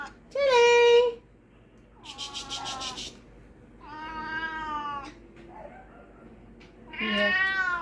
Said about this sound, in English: Imagine Tilly meowing like that